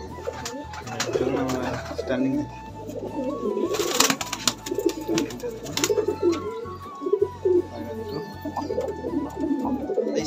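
High-flying pigeons coo repeatedly in a loft among other bird calls, with someone talking over them at times.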